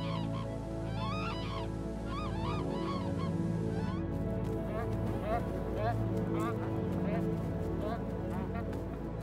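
Bar-headed geese honk near village houses in the Sanjiangyuan wetlands, a flurry of repeated nasal calls at moderate distance over a constant low rumble.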